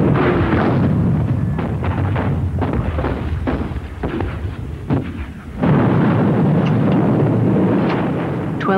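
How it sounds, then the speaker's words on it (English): German artillery guns firing at Verdun, loud repeated booming blasts and rumbling detonations that overlap in a dense barrage, with a brief lull before the pounding resumes. "Hundred German guns pounded an 8-mile stretch of the French front"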